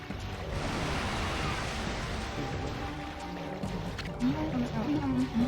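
Swelling ocean waves in the video game Okami, a steady, broad wash of surf that rolls on throughout, with faint tonal sounds surfacing near the end.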